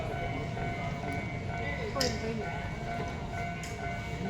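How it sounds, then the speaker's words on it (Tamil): A train pulling into a station in Japan, a continuous low rumble with a faint squeal and brief clicks, heard at moderate distance under a voice. "அடுத்த ட்ரெயின் பாருங்கள், அடுத்த 15 செகண்டில் வந்துருச்சு."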